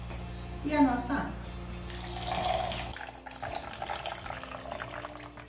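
Water is poured into sugar to make syrup for a chocolate mousse in a home kitchen, a steady splashing stream that runs for a few seconds and then gives way to quieter stirring sounds.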